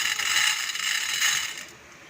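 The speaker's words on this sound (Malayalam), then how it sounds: "പാൻ ചൂടായി വന്നിട്ടുണ്ട്. അതിലേക്ക് നമുക്ക് കുറച്ച് ഉഴുന്ന് ചേർത്ത് കൊടുക്കാം കേട്ടോ." Urad dal tipped into a hot pan for coconut chutney, giving a steady bright sizzling rattle of dry lentils on hot metal that fades after about a second and a half.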